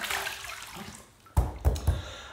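Water splashes at a sink as a face is rinsed after a shave with Stirling Barbershop soap. Quiet running water gives way to three close, distinct splashes in quick succession.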